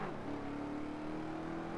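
A car engine on the Nordschleife in a racing game, played with a Logitech G920 wheel and gear shifter, revs hard out of a corner as a loud, sustained climbing drone under acceleration.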